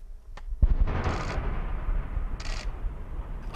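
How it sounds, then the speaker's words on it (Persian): Distant explosions, rockets and artillery fire in Nagorno-Karabakh, a sharp thud followed by a sustained low rumble with a few brighter bursts. "صدای انفجار، راکت و توپ."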